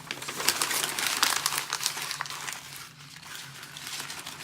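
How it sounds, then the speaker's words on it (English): Paper crinkles and crumples close by, a dense, continuous rustling with sharper crackles throughout, no voices. "The students will crumble the paper in their hands"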